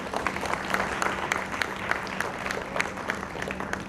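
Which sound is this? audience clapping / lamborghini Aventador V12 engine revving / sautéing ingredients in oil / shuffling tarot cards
audience clapping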